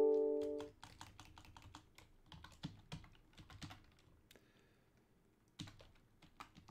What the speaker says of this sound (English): Boy, my typing is not great today.